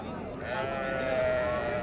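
Sheep bleat at a livestock market, one drawn-out wavering call rising over crowd chatter and people talking nearby.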